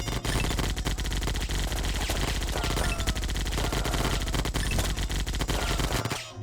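Heavy machine gun in the shooter War Zone Soldier: Battle Royale on Nintendo Switch firing in one long, relentless, extremely rapid stream of loud shots lasting about six seconds before cutting off.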